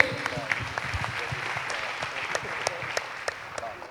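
Audience applauding for a guest speaker at a business and investment talk, steady dense clapping from a sizable crowd with a few sharper claps standing out, continuing evenly for several seconds.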